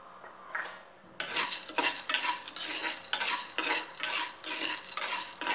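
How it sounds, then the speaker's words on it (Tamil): Chana dal (bengal gram) is dry-roasted in a pan for paruppu podi, and after a quiet start it is stirred steadily, with the lentils rattling and scraping against the pan up close and no talking. "அதுக்கப்புறம் கடலைப்பருப்பை வறுத்துக்கிறோம்"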